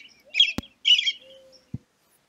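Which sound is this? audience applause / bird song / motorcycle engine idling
bird song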